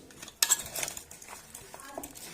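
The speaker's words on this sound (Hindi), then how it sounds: "अब इसे अच्छे से मिक्स कर लेंगे" A metal spoon clinks and scrapes in a bowl while mixing pickle spices with fenugreek seeds, turmeric, red chili powder and salt, a few close, light knocks and clatter over a quiet kitchen background.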